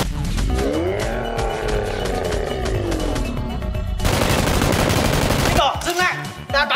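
Toy Nerf X-Shot blasters fire in a staged fight scene, with loud, dense bursts of rapid shots layered with other busy effects. The shooting grows harsher and more crackling toward the end.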